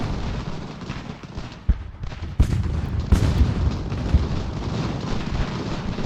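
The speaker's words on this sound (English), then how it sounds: "I hear the enemy's guns getting involved somewhere" Distant artillery and musket fire from enemy lines in the Revolutionary War strategy game Ultimate General: Revolution, a continuous low rumble punctuated by several sharper booms.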